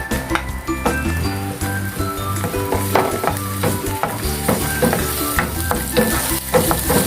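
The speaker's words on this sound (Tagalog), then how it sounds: "pag mainit na yung pan, lalagyan natin yung ating garlic" Garlic and onions frying loudly in a hot pan, a steady close sizzle broken by repeated metallic clinks and scrapes of a spatula stirring, no voices over it.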